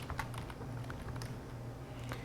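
Typing a command on a computer keyboard: a quick run of light, close key clicks at an irregular pace over a low steady hum, quiet and without talk.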